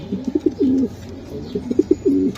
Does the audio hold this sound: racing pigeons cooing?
yes